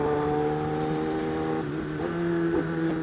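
A Kawasaki ZX10R sport bike engine pulls hard under acceleration on the road, a steady multi-harmonic drone rising and shifting in pitch, moderately loud and heard alone without talk.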